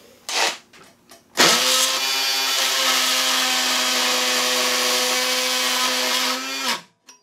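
A Black & Decker Matrix power tool with a blade attachment from the accessory adapter kit whirs up sharply and holds a steady, loud motor whine for about five seconds before spinning down, after a few brief bursts.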